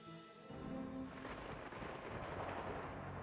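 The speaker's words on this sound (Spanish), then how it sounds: "Y explotó, en un crescendo de rayos y truenos" Thunder from a violent storm system that formed over the Gulf of Mexico rumbles heavily. After a quiet start, a sustained, dense roll of low booming builds and continues without a break.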